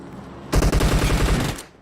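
A short, loud burst of rapid automatic gunfire from a multiplayer shooter video game, firing in quick repeated cracks for about a second before cutting off.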